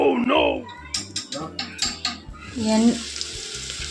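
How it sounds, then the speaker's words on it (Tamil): Oil crackles and splutters in a still-wet pan as onions sauté, with sharp pops and bursts of sizzle growing into a steady hiss, while a voice talks over it. "கொஞ்சம் ஈரத்துலேயே வந்து எண்ணெய் ஊற்றிட்டா, அதனால் படப்பட ஒரே சவுண்டு"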